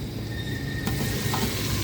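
Tomatoes frying with already-fried onions in a pan for chicken sukka, a steady close sizzle with light stirring scrapes running throughout.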